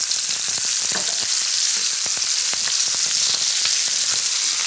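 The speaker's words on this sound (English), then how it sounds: "We're going to start basting this with this garlicky thyme butter." Steak sears in a pan with fresh thyme sprigs, garlic and butter, giving a loud, steady close-up sizzle with crackling pops and spatters throughout, no voices.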